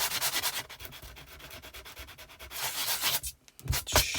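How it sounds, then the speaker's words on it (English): Sandpaper rubbed back and forth over embossed detail on a handmade Christmas card, a steady close scratchy rasp in quick strokes, ending with a few brisker scrubbing passes. "I'm just wanting this detail to be sanded back"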